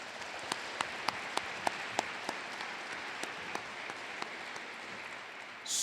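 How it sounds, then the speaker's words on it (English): An audience applauds at an RQ-4 Global Hawk sunset event, with steady, moderately quiet clapping that has a few sharper individual claps standing out at a regular pace for several seconds. "let's give them all another round of applause"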